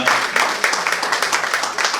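An audience applauding children being presented at a business meetup, a dense, lively patter of many hands at close range that holds steady, with voices mixed in underneath.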